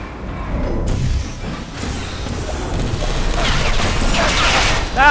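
Turrets firing in the video game Portal 2 during a co-op map, clattering mechanical bursts and rattling gunfire sustained across the moment, loud and busy with game effects layered over it.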